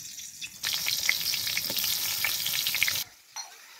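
Eggplant pieces coated in salt, turmeric and chili powder drop into hot oil and burst into a loud, crackling sizzle lasting a couple of seconds, then cut off suddenly, with no speech.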